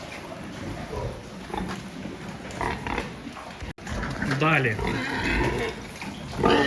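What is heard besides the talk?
pig (gilt) grunting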